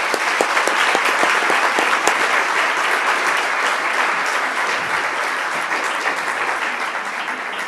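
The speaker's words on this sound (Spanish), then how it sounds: "agradecemos un aplauso a los expositores" An audience claps for the presenters, a dense, steady wash of applause from many hands that holds at an even level for several seconds and thins slightly toward the end.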